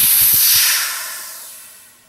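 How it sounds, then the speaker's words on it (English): A strong burst of pressurized air rushes out through an opened ball valve on a homemade pressurized fluid dispenser, loud at first then gradually tapering off, with a few faint clicks at the start. "now we will hear air."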